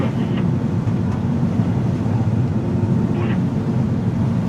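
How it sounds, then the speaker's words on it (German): S-Bahn commuter train passing in Hamburg's HafenCity, heard from a launch on a harbour canal trip: a steady, broad rumble that holds level throughout, mixed with boat engine drone. "Und die S-Bahn vor uns."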